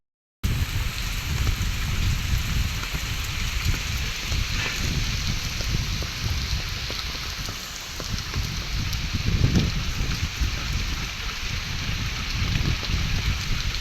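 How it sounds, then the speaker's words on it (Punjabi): Heavy rain pours down outside in a Punjabi village, a dense, steady roar of drops hitting surfaces that continues loudly and unbroken throughout, with no voices. "ਅੱਜ ਤੁਹਾਨੂੰ ਦਿਖਾਨੀ ਆ ਮੀਂਹ ਦਾ ਹਾਲ ਬਹੁਤ ਕਿੰਨਾ ਤੇਜ਼ ਪੈ ਰਿਹਾ ਬਾਹਰ"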